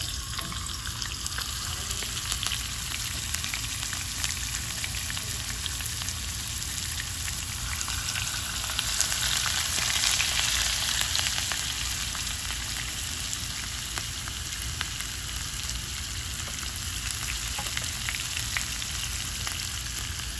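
Salmon fillets sear in hot oil in a pan, a steady dense sizzle and crackle running the whole time, close and fairly loud with no talking.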